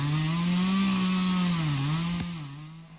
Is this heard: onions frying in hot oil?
no